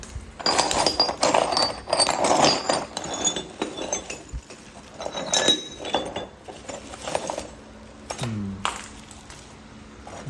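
Abrading the edge of a flint Kirk-stemmed arrowhead with an abrader stone gives bursts of dry scraping and gritty clinking strokes in uneven runs, close and fairly loud, with a brief tonal scrape near the end and no speech.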